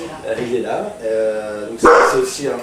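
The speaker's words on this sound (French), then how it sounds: "c'est le chien" A dog barks indoors during a French conversation: a sudden loud burst of barking cuts in near the end after steady talk.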